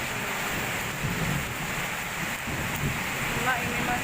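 Heavy rain and strong wind sweep over Subang in a storm, a continuous loud hiss and roar of rain and gusts with rumbling low noise, and a voice talking faintly underneath.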